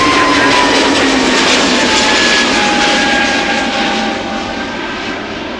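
A narrow-body airliner taking off, its jet engines roaring loud and steady with a rising whine, the roar easing slightly toward the end as it climbs away.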